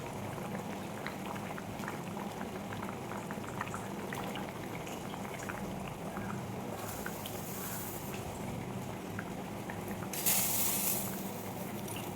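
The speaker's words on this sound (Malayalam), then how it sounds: "നമ്മുടെ കറി അങ്ങനെ തിളച്ച് വന്നിട്ടുണ്ട്." Low, steady bubbling of a para fish curry simmering in a pot, with a brief brighter hiss near the end.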